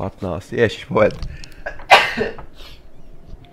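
A man sneezes once, sharply and close, between stretches of casual Czech speech.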